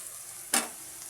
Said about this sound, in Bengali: এবার আমি দিয়ে দেবো মাংস, মাটনটা দিয়ে দিলাম।